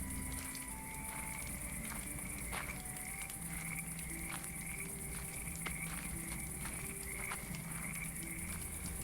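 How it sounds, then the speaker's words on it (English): A steady, high-pitched chorus of crickets chirps continuously, with scattered lower croaking calls mixed in. "There is only the steady chirp of crickets on the hedgerows"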